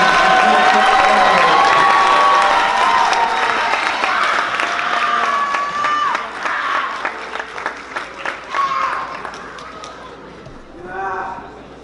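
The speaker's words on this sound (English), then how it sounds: "one more round of applause for" Students and families at a school academic awards assembly give a loud round of applause with cheering and shouting voices, the crowd noise dense at first then thinning into scattered claps and chatter.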